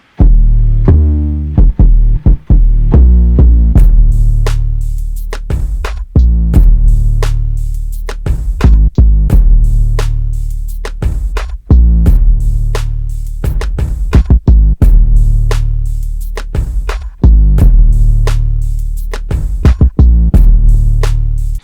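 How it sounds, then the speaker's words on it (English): Deep, booming 808 bass notes pound in a steady rhythmic pattern, loud and heavily processed through an effect plugin with a gritty, saturated edge, with no voices. "So check out this 808 without the sauce"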